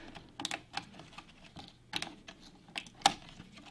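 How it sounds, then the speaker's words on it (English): A RAM stick released from the memory slot clips of a Dell Vostro 3400 laptop: several soft plastic handling clicks scattered through a quiet space, ending in one sharper, louder snap near the end. "The second stick has been popped out."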